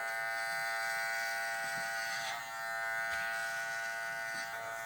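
Electric hair clippers fitted with a 1.5 guard cut hair in a close, steady buzzing hum that dips briefly partway through, alone without talk.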